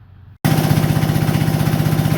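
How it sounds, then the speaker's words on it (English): An Onan DJA 3-kilowatt diesel generator runs unloaded, starting abruptly after a short quiet moment into a loud, close, steady chugging throb with an even pulsing beat. "I'm running the DJA, the 3 kilowatt model right here. It's a diesel."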